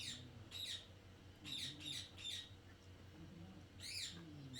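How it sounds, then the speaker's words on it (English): A bird squawks in short, harsh bursts, several in a row then one more after a pause, somewhat distant over a low background hum. "She's squawking back there."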